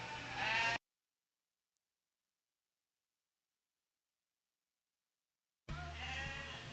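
Dorper ewe lambs at a livestock show bleat in two loud bursts, one at the start and one at the end, with a long stretch of silence between them.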